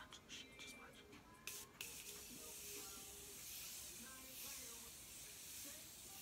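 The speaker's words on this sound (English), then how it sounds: "I am going to spray this Morphe continuous setting spray." Morphe continuous setting spray hisses in a couple of short bursts followed by a longer fine misting spray, close and fairly quiet.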